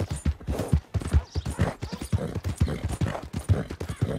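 Horse hooves clip-clopping in Red Dead Redemption 2, a steady brisk trotting rhythm of close, hollow thuds continuing throughout, with faint game ambience underneath.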